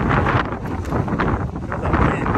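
Strong wind buffets the microphone at a volcanic cliff edge in Hawaii Volcanoes National Park, loud broadband roaring gusts that fill the short stretch.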